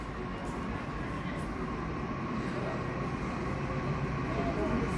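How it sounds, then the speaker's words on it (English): A freight train rumbles through Granville station in Sydney at night, a continuous loud rolling roar of wagons passing close by. "a freight train."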